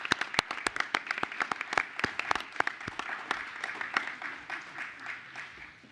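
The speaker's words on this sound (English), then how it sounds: "another round of applause for our incredibly talented students" Students receive applause at a school board meeting from a modest group, with distinct individual claps standing out in an uneven rhythm before the clapping thins and fades.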